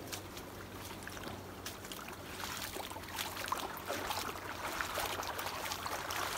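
A stream brimming with water after May rains flows steadily, a continuous rushing and trickling wash with small splashes, heard close by as someone walks beside it, with no talk.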